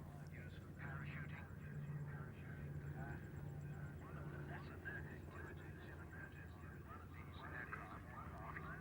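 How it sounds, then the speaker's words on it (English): A DC-3 twin-engine propeller airliner flies at an air pageant, its engine drone a steady, distant rumble running under continuous narration throughout. "throws this large aircraft around the sky like a light aircraft."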